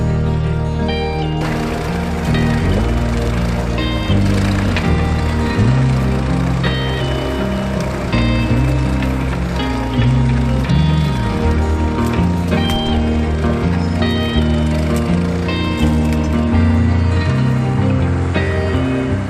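A classic tractor with a 6.6 litre Ford engine, rated at about 120 horsepower, ploughs a field at a vintage working event, its engine chugging in a steady, loud, low drone that holds throughout.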